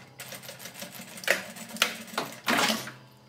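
A sewing machine backstitches along bias binding on a fabric toiletry kit for oral hygiene, with several short, fairly quiet mechanical bursts of stitching separated by brief pauses.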